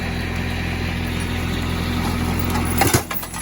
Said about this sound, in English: See if we can pull them right up to the back of the tractor.